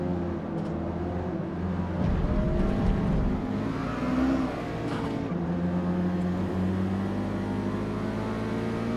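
A Nissan 370 engine in a Forza Motorsport race drones steadily at high revs, with rises and dips as the car accelerates and shifts, loud and close with no talking.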